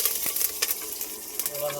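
Mustard seeds sizzle and crackle in hot oil in a home kitchen, a steady frying hiss with small pops throughout, close and moderately quiet.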